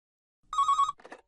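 A telephone rings once in a short electronic trill, then a brief second burst, clear and close in an otherwise silent room.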